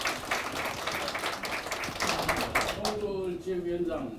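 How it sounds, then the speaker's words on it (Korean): Dense, crackling audience applause at a Daegu party members' meeting of the People's Party fills the room, then fades as a voice with a faint tone takes over. "박수 부탁드립니다."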